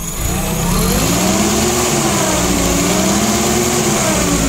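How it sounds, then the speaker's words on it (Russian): A Sumitomo FG15 1.5-ton petrol forklift engine idles steadily and close by, a constant low mechanical drone with slight wavering pitch, no voices. "сам двигатель, послушайте, как работает. Максимально тихо."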